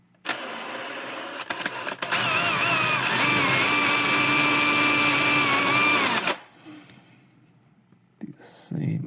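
Handheld power drill boring a hole into a wooden base, a loud whirring buzz that runs steadily for several seconds after a few brief starts, then stops, with a little speech afterward.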